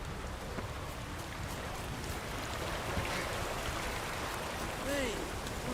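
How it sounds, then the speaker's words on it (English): Steady rain falls in The Witcher 3: Wild Hunt, a constant hiss of drops spread evenly throughout, moderately loud, with faint tonal game sounds near the end and no speech. "I love the rain"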